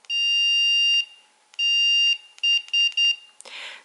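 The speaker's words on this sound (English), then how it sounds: "So now this collar will do a tone instead of a vibrate when I press the T button." A Mini Educator ET-300 dog training collar emits its tone: a loud, high electronic beep held about a second, repeated, then several short beeps in quick succession, ending with a brief burst of noise.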